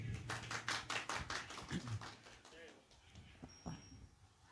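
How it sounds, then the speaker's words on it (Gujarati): Applause from the audience at a music class gathering, a dense run of clapping through the first couple of seconds that thins out, with background voices and chatter. "બધા કલાકારોને જોરદાર તાળીઓથી વધાવી દો"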